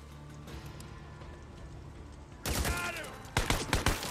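Marauders fire guns in the Days Gone video game on PS5 Challenge Mode, first quiet rumbling, then a loud burst of rapid shots followed by a second cluster of sharp gunfire bursts.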